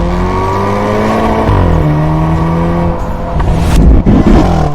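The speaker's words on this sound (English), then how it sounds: "What you hear is an upshift bang sound." A Hyundai N car in Sport or N mode accelerates hard at full throttle, its engine note climbing through gear changes, and a sharp bang sounds on an upshift near the end. It is loud and close.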